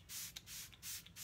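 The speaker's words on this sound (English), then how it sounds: "So what I'm going to do to finish is spray my face with the Smashbox Photo Finish" Smashbox Photo Finish primer water mists onto a face in four quick, close pump sprays, each a soft airy hiss with brief pauses between.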